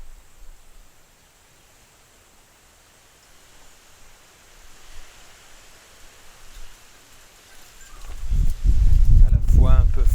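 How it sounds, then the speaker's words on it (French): Wind blows softly through a spring garden in Bayonne as a faint, steady rustling hiss that swells at moments, then a low gust rumbles loudly against the microphone near the end. "Il y a du vent."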